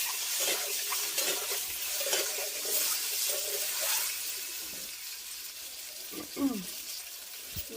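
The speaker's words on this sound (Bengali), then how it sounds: "প্রথমে আমি ডিমগুলো ভেজে নিচ্ছি।" Eggs frying in hot oil, the first step of an egg and prawn curry: a steady, fairly loud sizzling hiss runs throughout, with a few stirring scrapes near the end.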